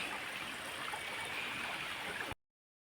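Water flowing through a cleared drain in an areca nut plantation, a steady soft rushing and trickling stream that cuts off abruptly near the end, faint and without voices.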